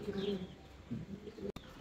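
Fancy pigeons at a pigeon farm cooing softly and repeatedly, low rolling calls close by with faint chirps and a murmur of voices in the background.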